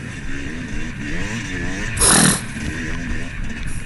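A two-stroke dirt bike engine racing in a GNCC cross-country event, a buzzing warbling drone with rising and falling revs and a brief loud scrape or clatter near the middle.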